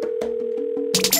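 An outgoing phone call's dial tone plays as a steady, fairly loud tone broken by a short repeating pulse, then a sudden burst of bright noise cuts in near the end.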